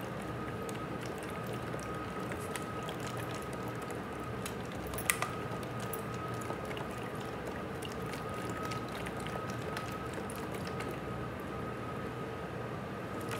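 An effervescent tablet fizzes in water inside a capped bottle, giving a steady, faint crackling hiss with dense tiny pops and no voices.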